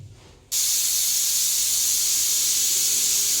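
A pressure cooker with its whistle removed lets out a loud, steady hiss of steam that bursts in suddenly after a quiet moment and keeps going without a break.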